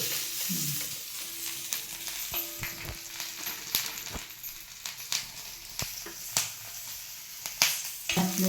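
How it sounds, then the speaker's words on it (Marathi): Green chillies fry in a little hot oil, giving a quiet sizzling hiss broken by frequent sharp pops and crackles, with a few faint scraping stirs, close by and without speech. "तेल टाकून घे थोडं अशी मिरची भाजून घ्यायची"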